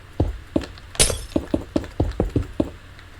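Blocks being broken one after another in Minecraft while building an automatic sorting system, a rapid series of about ten sharp crunching cracks, one brighter glassy shatter among them, close and loud.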